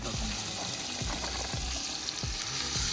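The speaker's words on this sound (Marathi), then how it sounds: "लसूण मस्त फ्राय करून घ्यायचं आहे." Garlic frying in hot oil at an outdoor farm cookout, a continuous dense sizzle with soft regular thumps underneath, heard alone without voices.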